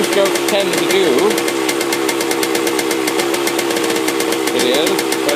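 A 1979 Yamaha DT125 two-stroke enduro motorcycle running just after starting with the choke out, a loud, rapid, rattling two-stroke putter close by, steady throughout with slight wavering, while someone talks over it.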